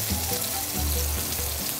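Vegetables sizzle and fry in a hot all-metal non-stick pan as they blister and char, a steady close crackling hiss with no talk.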